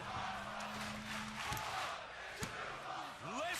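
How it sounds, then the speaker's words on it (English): A wrestling arena crowd at a WWE Cruiserweight Classic match roars and cheers continuously, a broad distant wash of voices with a couple of sharp thuds and a brief whistle-like sweep near the end. "Listen to this crowd."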